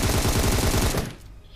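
Rapid automatic gunfire in a battle royale video game, a loud sustained burst of closely spaced shots that cuts off after about a second, leaving quieter game ambience.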